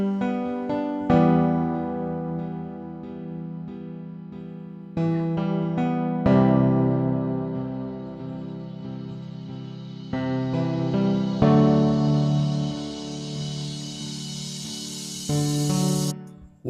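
An R&B-style beat made in FL Studio plays slowly, with sustained chords and melodic notes in repeating sections that restart several times, a mellow mix standing alone without talk.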